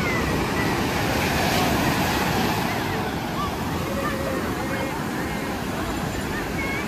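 Loud, continuous roar of big surf breaking on the beach at Puri, India, with wind noise and a faint murmur of people in the background.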